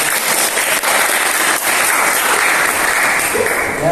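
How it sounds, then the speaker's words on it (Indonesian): An audience in a campus teaching session gives a round of applause, a loud, dense burst of many hands clapping close by that holds steady for several seconds with little talk. "tepuk tangan semua buat Mas Zidan ya"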